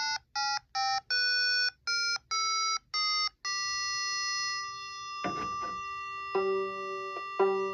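An electronic tuner emits a series of short, evenly spaced beeping tones, then holds a steady sustained G reference note, with faint handling noises and a brief rustle partway through.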